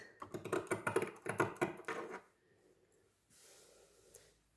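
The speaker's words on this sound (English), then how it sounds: "And now we're gonna cut this heart." Scissors cut a heart shape out of a T-shirt, producing a quick series of close, crisp snips for about two seconds before falling quiet, with a soft rustle of fabric afterward.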